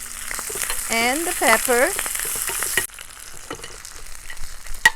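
Green onion and pepper frying with okra in a home backyard kitchen, a steady broadband sizzle with someone talking over the first half, then quieter crackling with a few sharp pops near the end.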